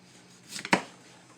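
A knife slices through a potato on a cutting board, giving one sharp, close chop preceded by a soft scrape, alone in a quiet kitchen.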